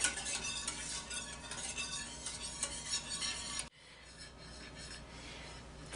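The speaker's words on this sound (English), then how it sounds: "keep it moving with a whisk" A whisk stirring a cashew mixture in a saucepan set on a heat diffuser, giving a close, steady scraping and swishing against the pan that drops to a quieter, softer stir partway through.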